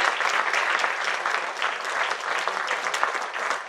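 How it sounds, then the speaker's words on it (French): Warm audience applause fills an evening awards ceremony in a French canton, a dense, steady wash of many hands clapping throughout without pause. "tous les applaudir chaleureusement"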